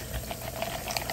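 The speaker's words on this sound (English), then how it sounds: "And you pour this fucker in there" Red Bull Peach Edition energy drink is poured into a glass, giving a close, continuous fizzing crackle with small popping bubbles for about a second, without speech.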